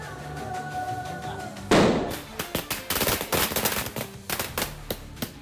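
A loud burst followed by a rapid, uneven series of sharp cracks and pops, like fireworks or firecrackers going off nearby.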